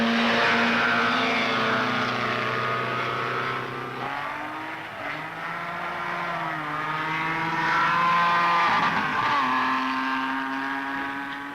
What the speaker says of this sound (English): That's the Isuzu Bele of Osmo Makala.